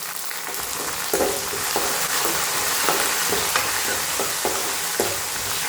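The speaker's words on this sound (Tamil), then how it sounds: "இப்போ நல்லா பூண்டு வதங்கிடுச்சு." Garlic cloves and curry leaves sauté in hot oil for a garlic-pepper gravy, a steady close sizzle with a spatula scraping and stirring at intervals, with no voices.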